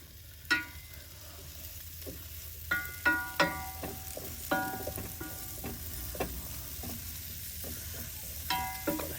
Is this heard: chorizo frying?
yes